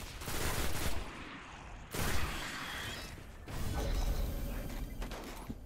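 Enemy gunfire in Destiny arrives as bursts of rattling shots and mechanical clatter in separate waves, fairly close and dense, with no voices over it.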